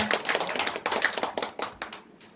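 A church audience applauds at the close of a lecture, with steady, dense clapping up close that thins out toward the end.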